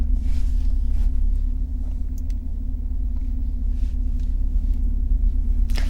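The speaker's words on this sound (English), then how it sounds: "As it just toodles around, right now we're in about 5th gear at about 25 miles an hour." A 2022 Lexus IS500 cruises at low speed in fifth gear around 25 mph, giving a steady, deep engine drone with a constant low hum and a faint road noise inside the cabin.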